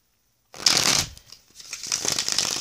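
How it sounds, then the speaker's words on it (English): A deck of tarot cards being shuffled close up, a burst of riffling and sliding cards after a moment of silence, followed by a second stretch of rapid card shuffling. "getting a really good shuffle on these cards"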